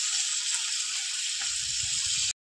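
Magur catfish fries in hot oil with a steady, airy sizzle. Faint low thumps of handling come in partway through, and then the sound cuts off abruptly.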